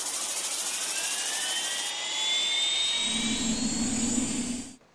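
Helicopter engine in Flight Simulator 2024, H145 or H160, a steady high turbine whine with rising tones over a broad hiss, a low rotor drone joining midway before it cuts off abruptly.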